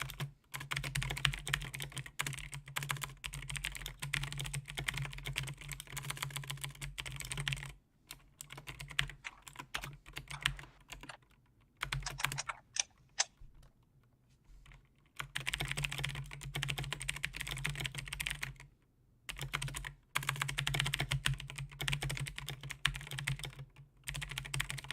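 Typing on a computer keyboard in bursts of quiet, rapid key clicks separated by short pauses, over a low steady hum.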